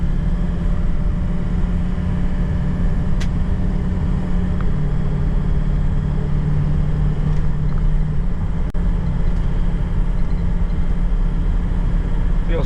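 A 2005 Ford Excursion Limited with a 6.0L Powerstroke diesel and 4WD cruises in fifth gear at about 55 mph and 1600 RPM, producing a steady, unbroken cabin drone of engine and road noise.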